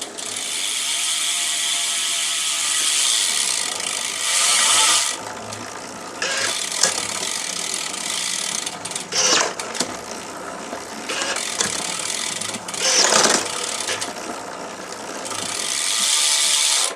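A BXT 145 Pro bicycle with a newly fitted T47 bottom bracket is tested on a stand, giving a loud continuous freewheel ratcheting whir that breaks off several times into quieter gaps with clicks and knocks, close by and without speech.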